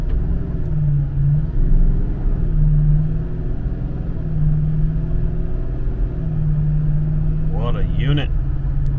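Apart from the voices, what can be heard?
vehicle driving on road towing a pontoon boat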